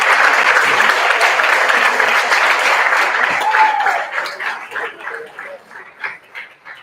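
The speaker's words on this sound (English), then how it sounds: "please give a big round of applause to your parents" Graduation ceremony crowd applauds in a loud, dense wash that thins after a few seconds into scattered individual claps; a few barking or yelping sounds appear partway through.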